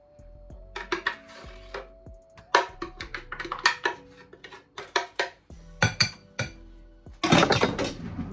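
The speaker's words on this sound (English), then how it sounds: "This one doesn't scratch the blender container, so we're just collecting." A spoon clinks and scrapes against a plastic blender container while sweet potato and carrot fritter batter is gathered, giving a series of sharp, irregular taps and knocks close up, with a denser clatter near the end.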